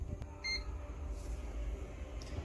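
A wall-mounted hands-free non-contact thermometer gives a short, faint electronic beep as it automatically takes a temperature reading, set against a low steady room hum.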